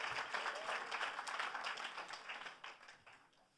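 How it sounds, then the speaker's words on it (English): Scattered audience applause at a Grammy Museum benefit event, a moderate patter of many hands that swells early and then gradually fades toward the end, heard fairly distant and soft. "So they deserve a huge round of applause for doing this."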